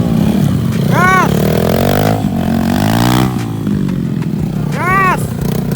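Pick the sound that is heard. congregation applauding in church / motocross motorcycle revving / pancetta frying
motocross motorcycle revving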